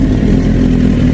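Kawasaki Z900 RS motorcycle engine held at a loud, close, steady rev, a dense rough growl lasting about a second with no voices.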